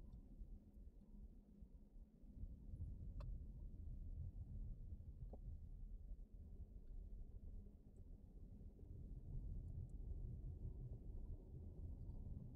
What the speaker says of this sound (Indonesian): Gemuruh kabinnya atau suara ban itu benar-benar berkurang drastis